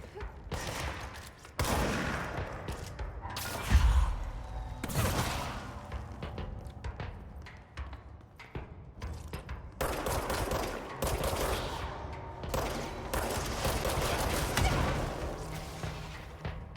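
Rocket blasts and sniper shots in the video game Control ring out as loud, dense bursts of gunfire and booming impacts, recurring through the whole stretch with heavy thuds and a few whooshes in between.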